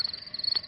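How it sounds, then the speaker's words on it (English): Steady high-pitched cricket chirping in a cartoon, a rapid pulsing rhythm, fairly faint and continuous, with no voices. "That is the sound of crickets chirping"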